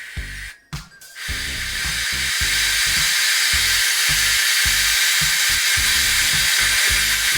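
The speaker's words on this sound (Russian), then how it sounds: "Пришло время стравить пар." After a brief pause, a loud, continuous hiss of steam rushes out of a multicooker cooking soup, steady and close, with a faint rhythmic thumping beneath.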